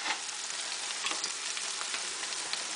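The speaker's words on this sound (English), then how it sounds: "And you fry all that" Two medium potatoes cut into French fries sizzle with half a teaspoon of salt in 1.5 tablespoons of corn oil in a pan, making a continuous, close, crackling hiss with no talking.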